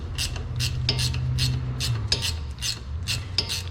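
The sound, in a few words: wrench loosening brake caliper guide pin bolt on Jeep Renegade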